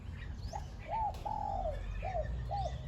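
A dove coos in a series of soft, clear, rising-and-falling notes over a low background hum, fairly close, with faint chirps.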